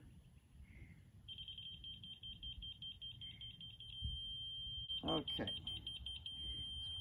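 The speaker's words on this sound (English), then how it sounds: "Solid beep." A laser level receiver on a stick beeps at a foundation footing, first in rapid pulses then as a solid continuous tone, with someone speaking briefly nearby.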